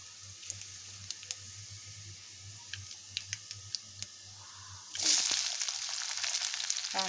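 Cumin seeds, added after mustard seeds, crackle in hot oil with scattered sharp pops and clicks at first, then a sudden loud burst of sizzling near the end, close and steady with no talking.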